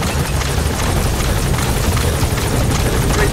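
Helicopter from the video game Metal Gear Solid 5: The Phantom Pain arriving, a loud steady rotor thrum filling the whole stretch with dense broadband wash and no talk over it.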